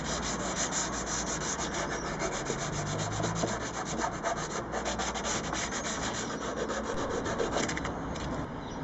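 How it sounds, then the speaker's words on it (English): A wooden cigar-box guitar body gets a final hand sanding before the bridge and strings go on, a steady close rasping rub that continues evenly throughout, with no voices. "just giving it a final sand down before we fit the bridge and the strings"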